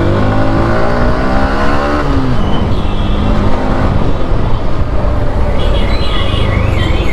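A motorbike engine revs hard and steadily on a fast road ride through Dhaka traffic, loud and continuous with wind rush and rising and falling pitch.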